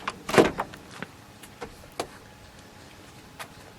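A single solid, weighty thud of a 1963 Studebaker Gran Turismo GT Hawk's door shutting, followed by a few faint clicks and light taps in an otherwise quiet space.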